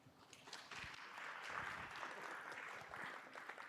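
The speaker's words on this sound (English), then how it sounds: "Please give them a round of applause." Audience applause fills a symposium hall at a workplace health and technology event, a dense, steady patter of many hands clapping at moderate distance.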